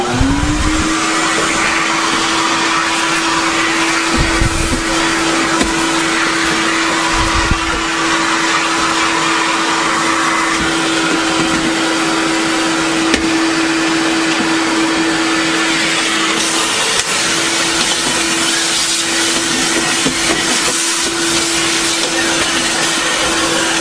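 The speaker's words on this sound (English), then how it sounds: "And we're going to start vacuuming now." A household vacuum cleaner runs loud and steady throughout during home cleaning, its motor giving a constant whine with a rough airflow roar and slight shifts as it moves.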